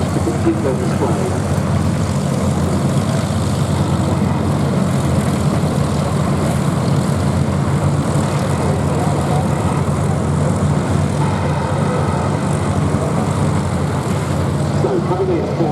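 Pitts S-1D special aerobatic biplanes of the Trig Aerobatic team at the Duxford airshow, their engines a steady, loud continuous drone throughout, with speech running over it.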